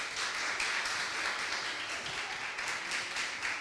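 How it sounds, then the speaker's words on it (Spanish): Applause from a school audience at IES Geneto, a steady dense patter of many hands clapping throughout, moderately distant and without talk. "con este fuerte aplauso les vamos a dar las gracias"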